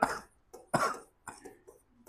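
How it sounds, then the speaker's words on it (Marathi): A person coughs close by in a short run of about four harsh, separate bursts with brief pauses between them, and no other voice or sound. "ठीक आहे खोकला लागलेला आहे."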